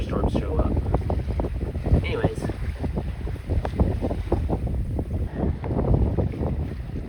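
Wind buffets the microphone aboard a Hans Christian 48T sailboat sailing at about 3.5 knots under only the genoa, with steady gusty rumble and water sloshing against the hull, fairly loud and close.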